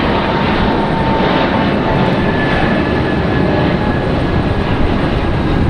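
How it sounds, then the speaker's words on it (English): Delta Airbus A220 jet departing Raleigh-Durham International, a loud, steady broadband engine roar holding constant throughout, close and unbroken with no talk. "There we go, our Delta A220 getting a move on."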